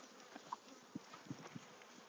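Honey bees buzz faintly around a hive during honey collection, with a quiet steady hum and a few brief louder passes of individual bees close by.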